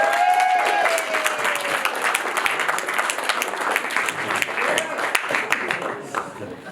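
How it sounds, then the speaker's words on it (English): Wedding guests break into loud, sustained applause with dense overlapping claps filling the room, a few cheers and voices mixed in, fading slightly toward the end. "A huge round of applause, please."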